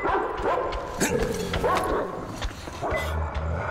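Dog barking and yipping in the post-apocalyptic shooter game Metro Exodus, repeated barks at close range over continuous game sound and other noise, with yelping tones throughout.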